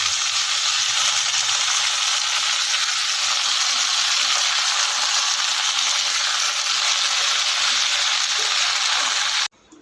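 Greens fry with garlic, onion and green chilies in a hot pan, giving a loud, continuous hiss of oil that holds steady for nearly ten seconds before cutting off abruptly, heard close with no talk.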